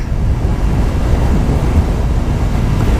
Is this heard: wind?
yes